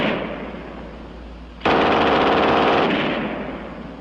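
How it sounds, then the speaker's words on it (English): German MG 42 machine gun fired from a tripod: a single loud, continuous ripping burst of extremely rapid fire lasting about a second, with echoing rumble before and after. "And last, the German 42 on the tripod."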